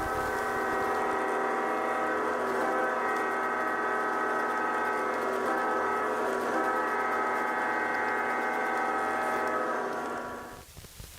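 A G scale model train's onboard sound system plays realistic railroad effects: a sustained, loud whistle or horn chord with rich harmonics holds steady for about ten seconds over a low rumble, then cuts off abruptly.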